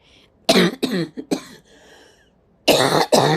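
A person with low-grade bronchitis coughs in several sharp, harsh bursts, a cluster of three or four, a pause, then two more loud coughs close up.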